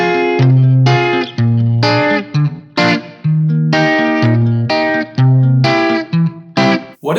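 An electric guitar fingerpicked with the middle and ring fingers' harmony notes brought forward rings through effects with distortion and chorus, sounding repeated chord phrases that swell and cut off in a steady rhythm.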